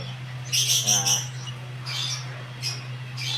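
Four-week-old birds being hand-fed give short bursts of high, thin chirps in a few quick clusters, close by, over a constant low electrical hum.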